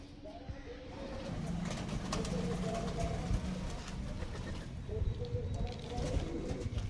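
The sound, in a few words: pigeons cooing in loft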